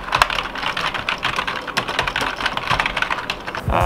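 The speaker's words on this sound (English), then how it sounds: "I typed. If you like ASMR, you'd probably love that." Fast, continuous typing on a computer keyboard, dense close key clatter with no pauses, loud and alone.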